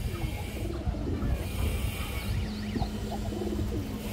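A white male army pigeon coos in low, repeated throaty phrases, close and clear against a steady background hum, with no voices.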